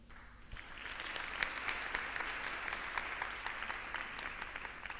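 Sustained audience applause after a devotional singing performance, a steady dense wash of clapping from a large hall crowd that holds level throughout, without speech.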